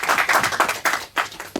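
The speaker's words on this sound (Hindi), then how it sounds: "एक बार जोरदार ताली हो जाए उनके लिए भी।" A studio audience on the junior quiz show Genius Kaun claps loudly for a guest who composed and recited a poem, the applause arriving in uneven bursts that thin out toward the end.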